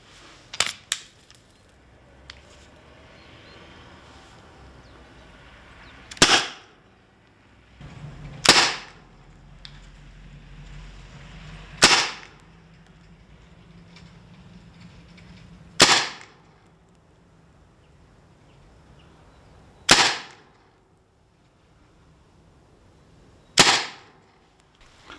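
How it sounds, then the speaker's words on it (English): Six sharp, loud cracks from an HDR 50 air pistol fitted with a power kit and tuning barrel, fired singly at irregular intervals of a few seconds, each a crisp snap with a short decay over faint background noise. "I'll do 6 shots with plain barrel and I'll do 6 shots with the extension on"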